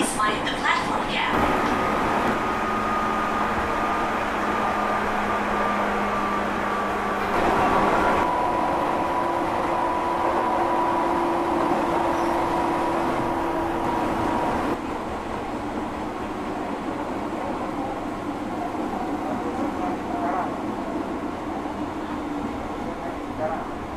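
Steady rumble and hum of a KRL commuter train riding the Jakarta Loop Line after Kranji station, loud and continuous inside the carriage, with onboard announcements and voices over the running noise.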